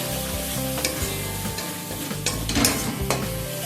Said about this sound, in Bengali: এবার মশলাটা ভালোভাবে মিশিয়ে নিলাম।